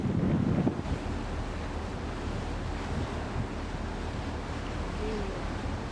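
Wind blowing outdoors on a trip through Scotland, a steady loud roar buffeting the microphone throughout, gustier at the very start.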